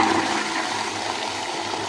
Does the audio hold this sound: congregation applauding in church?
no